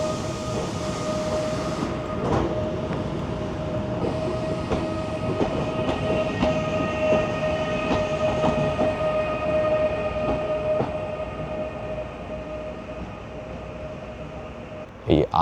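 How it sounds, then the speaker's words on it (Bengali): A train pulls out of a station in Uzbekistan on the Tashkent to Bukhara high-speed line, a steady rolling rumble and rail clatter with a sustained tone, near and continuous throughout, with a brief louder knock at the end. "8টা ট্রেন ছেড়ে বেরিয়ে গেল।"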